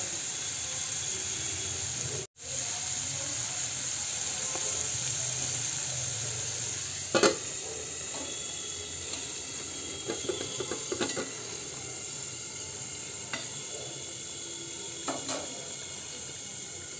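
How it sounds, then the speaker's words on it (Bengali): Bitter gourd frying and a curry bubbling in pans on a home kitchen stove give a steady sizzling hiss, broken by a few clinks of utensils against the pans. "এখানে উচ্ছে ভাজা হচ্ছে, আর এখানে দেখুন ঝোলটা টকবক করে ফুটছে"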